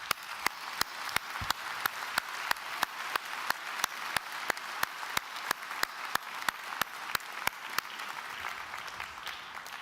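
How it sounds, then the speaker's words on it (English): Graduation ceremony crowd at Dublin City University gives applause, with soft background clapping under a sharp, evenly spaced series of loud claps close by. "And we pause for applause."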